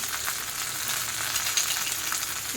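Chillies sauté in a hot pan for a buttermilk chilli side dish, giving an even, close sizzle throughout.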